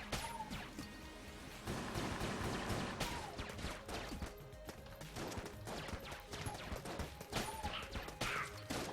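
Rapid video-game gunfire from Enter the Gungeon, a dense, continuous stream of sharp shots and impacts at steady loudness, with no talking over it.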